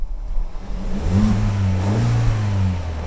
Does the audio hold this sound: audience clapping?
no